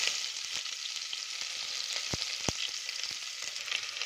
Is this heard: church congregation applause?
no